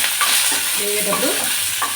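Garlic cloves fry in a pan with a steady, close sizzle, broken by brief scraping stirs.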